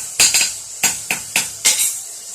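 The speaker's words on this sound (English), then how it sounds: "Give it a tap, straighten over here on the anvil." Hammer tapping a forged steel meat skewer on an anvil to straighten it, about six sharp metallic taps at an uneven pace, close and clear with nothing else around them.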